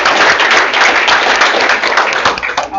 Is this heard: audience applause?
yes